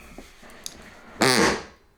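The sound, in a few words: fart noise imitated by mouth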